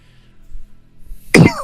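A single sharp cough bursts out near the end during a live stream of the Who Wants to Be a Millionaire quiz game, loud and close, after faint quiet background.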